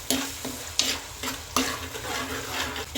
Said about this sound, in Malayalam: ഇനി നമുക്കതിലേക്ക് കുറച്ച് വേപ്പില കൂടി ഇട്ട് കൊടുക്കാം അതിനുശേഷം നല്ല പോലെ ഇതിൻ്റെ പച്ചമണം മാറുന്ന വരെ നമുക്കിതൊന്ന് വഴറ്റി കൊടുക്കാം